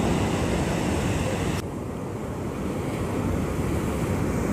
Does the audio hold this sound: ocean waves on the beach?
yes